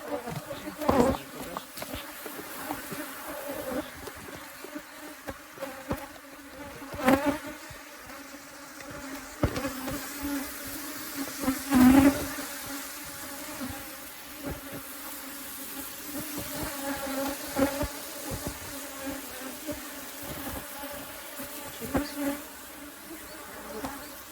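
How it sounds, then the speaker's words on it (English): A dense, steady buzzing of many honeybees around a hive close by, swelling and fading as individual bees fly past the microphone. "Have you ever seen so many bees?"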